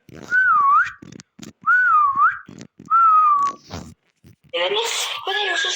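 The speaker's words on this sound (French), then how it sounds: "J'ai trop mal sifflé en vrai de vrai" A person whistles a short rising-and-falling tune in three phrases, close and clear with breathy gaps, followed by a higher, wavering burst of whistling or squealing at the end.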